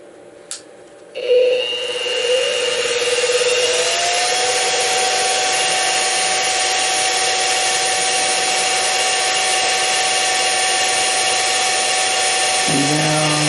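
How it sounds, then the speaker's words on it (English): A milling machine cuts metal on a dynamic balancer build, taking a light cut. The motor starts with a brief rising whine, then settles into a steady, loud, high-pitched cutting drone that continues alone to the end. "And now because of this mill, I'm only taking 50 thousandths of a cut."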